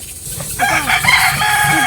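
A rooster on a farm near Mahabalipuram crows loudly and close by, one drawn-out call with some clucking from fowl, and no voices present.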